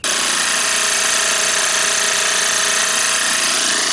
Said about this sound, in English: So I brought my little air compressor.